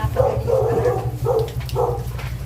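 A dog barks repeatedly in short, close, loud bursts on a rainy street, over a steady low hum of background noise.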